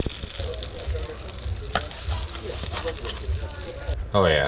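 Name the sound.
butter browning and sizzling in a pan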